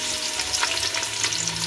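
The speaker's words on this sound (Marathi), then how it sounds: "आता फोडणी द्यायला घेतोय आपण। पहिले लसूण टाकतोय" Garlic sizzles in hot oil for a tempering, a continuous close-up frying hiss with small popping crackles throughout, no voices.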